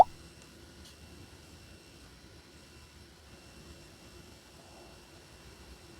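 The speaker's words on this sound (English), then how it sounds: "Even when it's idling, you constantly hear this buzzing sound." An Asus Zenbook Pro Duo 15 OLED UX582 laptop idles with its fan giving off a steady, faint whirring buzz, alone and unbroken throughout.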